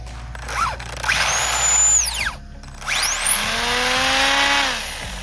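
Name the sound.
RC car drivetrain whirring with tires rubbing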